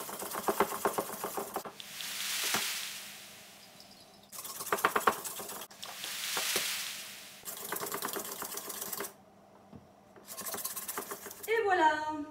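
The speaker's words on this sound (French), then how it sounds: "Un fouet, c'est mieux." Batter for a galette comtoise whisked by hand in a bowl, quick rhythmic scraping and clinking in several bursts with short pauses between, fairly close and alone.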